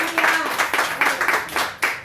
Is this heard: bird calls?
no